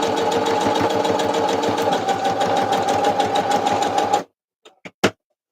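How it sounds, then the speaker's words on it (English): A sewing machine runs steadily, stitching the edge of a junk journal tag to hold lace in place, its rapid rhythmic needle chatter loud and close for about four seconds before stopping, followed by a few brief clicks. "just sewing the edge of the tag to make sure the lace stays on"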